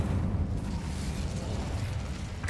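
The Incendio fire spell in the video game Hogwarts Legacy: a dense, continuous roaring whoosh of flame with crackling bursts, loud and sustained for a couple of seconds before a sharp pop at the end.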